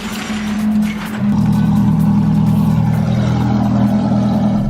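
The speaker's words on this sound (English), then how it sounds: "you can't even hear this car idling over the idle of the Ferrari" A Ferrari 430's deep, steady engine idle rumbles up close, shifting to a slightly heavier, fuller drone partway through and holding evenly to the end.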